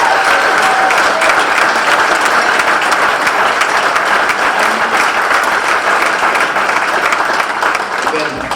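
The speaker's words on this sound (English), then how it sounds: "Give yourself a round of applause." Loud, sustained applause fills a room at a 2016 veterans treatment court ceremony, a thick wash of many hands clapping continuously for over eight seconds, with a voice faintly audible beneath.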